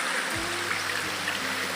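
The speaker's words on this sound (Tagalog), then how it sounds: "So, ayan, may ilog." A river flowing during heavy rain in a wooded rural area, a steady rushing wash of water with soft trickling detail, fairly close and continuous, with no speech.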